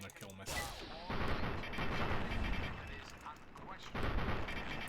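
Gunfire against Talon Company mercs in Fallout 3 comes as repeated loud shots and bursts, some clustered in rapid volleys, with a talking voice mixed among them.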